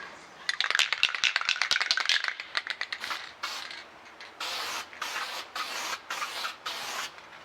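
Aerosol spray can hissing in a series of short bursts, first quick rapid puffs then longer sustained sprays, close and fairly loud, used to apply a flake coating.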